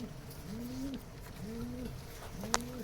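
Rajshahi Giribaz and Pakistani breed pigeons cooing close by, three drawn-out rising-and-falling coos at an even pace, with a brief sharp click near the end.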